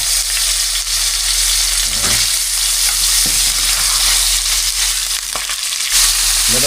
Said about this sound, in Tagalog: Iprito muna natin yung ating mga isda.